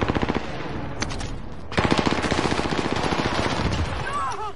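Gunfire in a video-game firefight: rapid bursts of automatic shots, then after a brief lull a denser, louder volley of sustained fire close by, with a voice faintly underneath.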